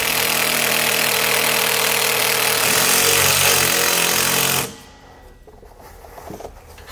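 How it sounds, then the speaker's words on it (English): A power drill drives a self-tapping screw into a fifth-wheel trailer near the rear axle, whirring loudly and steadily for several seconds before stopping abruptly, leaving faint clanking afterward. "we're going to take our self-tapping screw here, just drill it into place"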